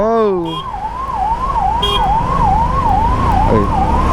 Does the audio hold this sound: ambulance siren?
yes